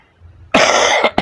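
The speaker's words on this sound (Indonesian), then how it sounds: "maaf sih agak batuk-batuk mas." A single harsh, loud cough close to the microphone after a quiet moment, followed by a short second cough.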